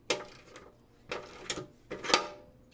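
A ratchet wrench loosening the 13mm bolts on a Hummer H3 front skid plate, heard up close as three separate bursts of clicking ratchet strokes with short pauses between them.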